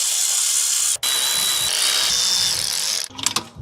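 Power tool running steadily and loudly while new spark plugs are driven into a car engine, with a brief stop near the start and clattering handling sounds as it winds down at the end.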